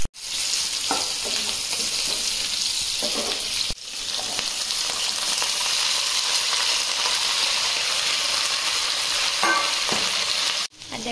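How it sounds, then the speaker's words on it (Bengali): Garlic and slit green chillies spit in hot oil, left over from frying chicken, making a dense, steady sizzle up close, with a few soft clatters and sharp knocks at the start and end. "এবার একটুখানি এই অয়েলটার মধ্যে আমরা দিয়ে দেবো রসুন আর চিরে রাখা কাঁচা লঙ্কা।"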